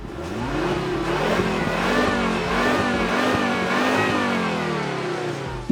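A 2006 Volvo S60 with a 2.5-litre, 210 hp petrol engine and automatic gearbox revs steadily and loudly up close, its pitch rising and falling across sustained throttle blips with no talk over it.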